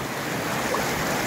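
Fast-flowing river water rushes in a dense, steady broadband wash, loud and close, with no pauses or talk.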